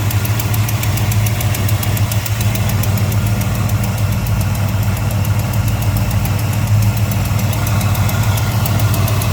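A 1955 Chevrolet Bel Air with a fresh 355 V8, headers, a 650 double-pumper carburetor and electronic ignition idles steadily close up, a loud, even, rumbling idle with a rapid pulsing beat and no talk.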